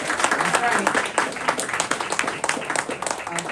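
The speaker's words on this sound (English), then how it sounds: "Let's do a round of applause." Audience at a live community event applauding, a steady wash of many hands clapping throughout, loud and dense with scattered voices under it.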